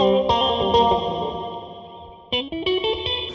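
Electric guitar chords ring out through a Donner Pocket Go preset, with a nasal, cocked-wah filtered tone and a wash of reverb trailing each strum.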